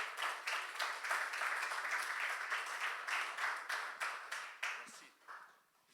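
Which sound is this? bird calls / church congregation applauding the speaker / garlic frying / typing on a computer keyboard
church congregation applauding the speaker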